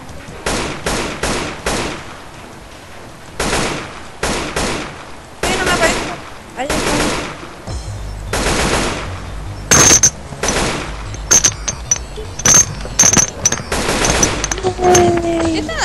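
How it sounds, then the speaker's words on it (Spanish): Repeated bursts of gunfire cut down zombies in Left 4 Dead 2 in a flooded area, loud close shots in clusters and rattling automatic runs, with someone talking in between. "Yo estaba disparando a los zombies que tienen la chucha"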